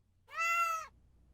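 A cat gives one clear, drawn-out meow, close and fairly loud, that rises and then falls away into quiet room background.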